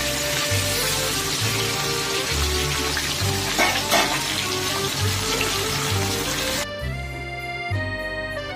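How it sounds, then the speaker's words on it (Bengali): Pieces of fish frying crisply in hot oil in a pan, a dense steady sizzle with a busy crackle throughout. The sizzle drops to a thinner, quieter hiss near the end. "মাছগুলো ভালো করে কড়া করে ভেজে নিচ্ছি"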